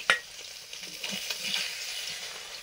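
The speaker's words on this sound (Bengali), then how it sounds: "ভেজে নিলাম মাছগুলো" Pangas fish pieces frying in a pan for a tamarind sour curry, a steady close sizzle with a sharp crackle at the start and scrapes of stirring throughout.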